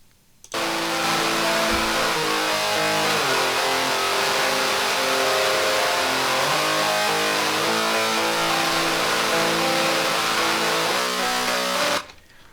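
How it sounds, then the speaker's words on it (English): Electric guitar through a Boss Heavy Metal distortion pedal simulation, a thick, fuzzy wall of sustained distorted chords that holds steady for about eleven seconds, then cuts off abruptly. "which is the Boss Heavy Metal distortion pedal simulation, and these are my settings for both guitars"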